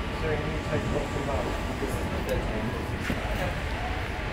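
Steady low rumble inside a moving train, with constant rattling and a few faint clunks, while voices murmur quietly underneath.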